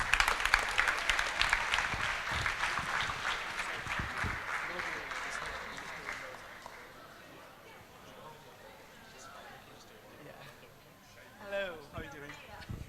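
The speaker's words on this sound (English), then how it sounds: "Can we have a round of applause, please?" An audience at a university leadership election results event claps loudly, then the applause fades over several seconds into quieter room noise with some chatter.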